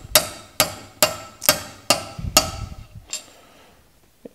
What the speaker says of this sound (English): I'm going to take a small ball peen hammer and gently continue to drive it in